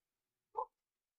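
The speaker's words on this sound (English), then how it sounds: "Badass dogs out here, bro." A single faint dog bark, short and muffled, sounds from some distance away in an otherwise silent moment.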